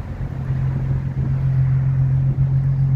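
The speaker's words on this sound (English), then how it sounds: "It's got a really nice exhaust tune to it." 2016 Ford Mustang V6 automatic convertible idling, a steady close low exhaust drone with a strong hum and slight revving swells, no talk.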